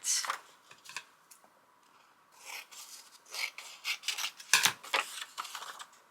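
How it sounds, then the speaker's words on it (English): Scissors snipping through thin airmail paper for a December journal page, a series of close, crisp rasping cuts coming in short bursts with brief pauses between them. "airmail paper as well, which I am also cutting like that"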